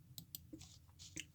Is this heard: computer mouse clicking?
yes